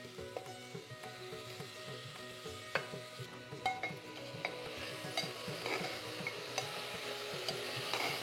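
Rice goes into a hot spiced pan for methi khichdi, a quiet sizzle with repeated spoon stirring and scraping against the pan, close and faint, with a low background tone and no talking.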